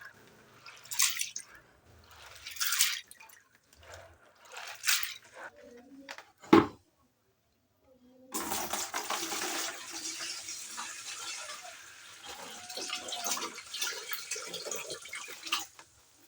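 Water sloshes and splashes in bursts as corn grain is swished and rinsed, with a quiet pause midway before a longer stretch of pouring and swirling.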